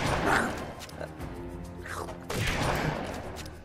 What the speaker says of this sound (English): That's a shotgun right there.